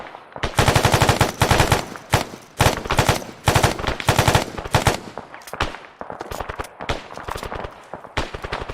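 Gunfire in the military video game Squad aimed at enemies behind a BTR, loud, sustained automatic bursts close by, repeated in several long strings with brief gaps.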